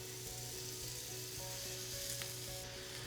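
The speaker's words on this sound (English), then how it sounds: "Once you hear that sort of sizzle, you know that you've got a nice intense heat in your pan" Thinly sliced shallots and kale sizzle in olive oil in a hot pan, a steady close crackling fry with faint stirring scrapes.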